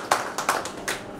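A few sparse, distinct hand claps ring out from the audience at a business motivation seminar, spaced bursts rather than full applause, at moderate loudness.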